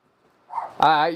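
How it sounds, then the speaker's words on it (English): A dog lets out a single loud, close bark with a harmonic tone that cuts off after a short muffled yelp or whine leading into it. "Your dogs are here."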